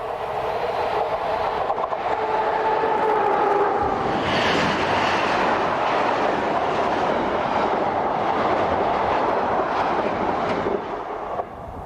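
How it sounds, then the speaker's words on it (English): Italian FS Class 636 electric locomotive hauling a westbound container train east of Turin, passing with a rising roar and steady wagon rumble and clatter, plus a brief tonal whine early on. "Just east of Turin is 636434 with a westbound container train."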